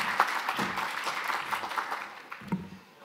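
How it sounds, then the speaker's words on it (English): Workshop audience applauds to welcome a guest presenter on social equity in tech, with moderate, fairly faint clapping that thins out and fades toward the end. "Let's give her a round of applause."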